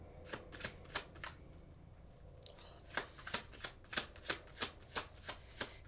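Playing cards being shuffled close up, a quiet run of crisp riffling bursts in a fairly steady rhythm, with a short pause early on.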